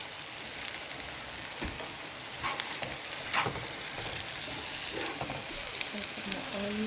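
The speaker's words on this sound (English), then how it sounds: "Now, I'm going to saute up my vegetable." Onion sautéing in a hot pan after bacon has been fried, a steady close sizzle with faint stirring scrapes throughout.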